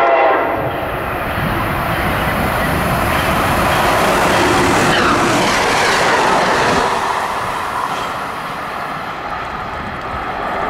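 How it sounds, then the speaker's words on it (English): An Amtrak train rumbles into Canton/Route 128 station with loud, sustained rolling noise and a horn, the roar rising and then easing as it slows. "Train approaching. Please remain behind yellow line."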